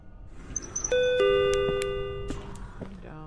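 A two-tone ding-dong doorbell chime rings once inside a hiker-themed video game, clear and close, its tones ringing out and fading over a soft background with no talking.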